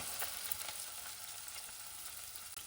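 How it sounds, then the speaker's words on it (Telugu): Two medium onions, in pieces, fry in hot oil in a pan, making a soft, even sizzle with light crackles and no talking. "నూనె కాగిందండి. ఇప్పుడు ఇందులోకి 2 మీడియం సైజు ఆనియన్స్ ముక్కలను వేసుకుందాం."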